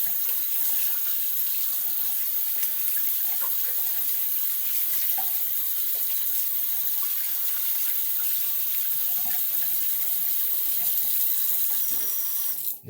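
Cold tap water runs in a steady, continuous hiss and splash close by, as a puck is rinsed beneath the flow, cutting off abruptly at the end.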